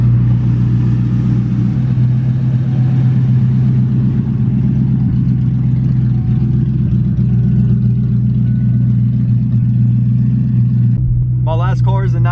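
A Cobra car engine idles steadily while warming up, a loud, even low rumble running for the whole stretch, with a brief sharper mechanical rattle near the end.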